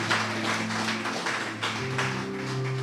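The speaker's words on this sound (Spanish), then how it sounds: "Dale un fuerte aplauso con todo tu corazón." A congregation applauds during a church service, a dense wash of clapping heard at moderate distance, with sustained organ or keyboard tones running underneath throughout.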